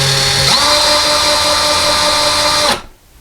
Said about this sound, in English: we're going to drill a very small pilot hole just to see if there's a stud behind it